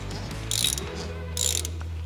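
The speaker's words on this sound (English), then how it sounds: "take your ratchet, get it on the bolt. You're gonna wanna make sure you get this part really tight." A ratchet tightening a bolt during a brake job on a 2010 Jeep Patriot, heard as two short, close bursts of rapid clicking about a second apart over a low hum.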